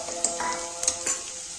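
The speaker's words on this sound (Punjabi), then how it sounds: "ਤੇ ਹੁਣ ਆਪਾਂ ਨੇ ਇਸ ਨੂੰ ਚੰਗੀ ਤਰ੍ਹਾਂ ਹਿਲਾ ਲੈਣਾ ਬਿਲਕੁਲ ਚੰਗੀ ਤਰ੍ਹਾਂ ਖੁਸ਼ਬੂ ਆਉਣ ਤੱਕ ਆਪਾਂ ਇਸ ਨੂੰ ਭੁੰਨਾਂਗੇ" Green chilli and garlic paste fries in hot oil after cumin, a bright continuous sizzle with a few sharper crackles and stirring scrapes, close and alone.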